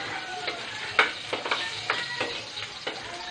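Garlic and onion sauté in a pan with a steady close sizzle, broken by scraping stirs and light utensil taps at roughly half-second intervals.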